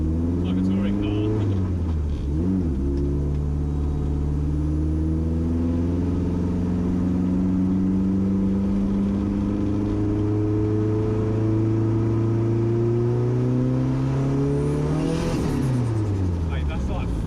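A twin-turbo Ford Fiesta engine revs at part throttle, heard from inside the car, its loud droning tone rising and falling in long sweeps with a dip early on and another swell near the end.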